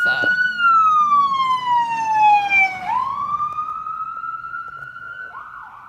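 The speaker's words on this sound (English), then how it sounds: "Oh, there goes the ambulance." Ambulance siren passing nearby on a street in Englewood, loud wailing tone that sweeps down, jumps back up and holds steady as the vehicle goes by, with low road rumble underneath.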